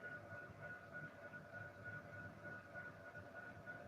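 Model train hauled by SD40 locomotives runs steadily on a layout, giving a continuous, even motor hum with a sustained tonal whine throughout, moderately close and without talk.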